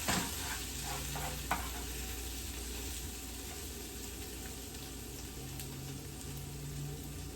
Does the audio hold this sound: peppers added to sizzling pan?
yes